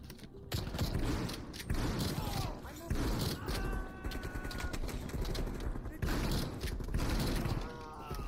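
Dense, continuous gunfire in Black Ops Cold War, sustained bursts and shots filling the scene loudly with mechanical clatter and other game effects throughout.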